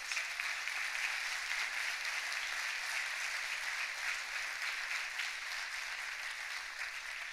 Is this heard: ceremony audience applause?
yes